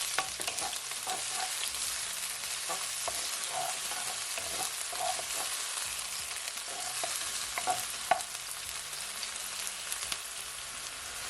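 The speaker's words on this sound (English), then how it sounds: "I'm just gonna allow it to saute for at least 20 seconds" Onion and garlic sauteing in a pan, a steady soft sizzle broken by irregular clinks and scrapes of stirring, close and without talk.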